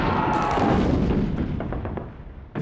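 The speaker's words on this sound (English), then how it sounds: "Fritz put down a barrage like nothing I'd heard before." World War I German artillery barrage (drumfire) on the offensive: a dense, continuous rumble of heavy guns and explosions, loud at first and thinning into scattered distinct blasts and pops, with no voices.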